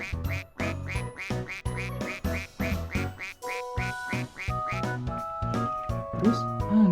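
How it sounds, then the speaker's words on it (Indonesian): A toy duck gives a run of rapid, nasal, squeaky quacks in bursts, followed by longer sustained toy tones, close and fairly loud. "Ini ada bebek."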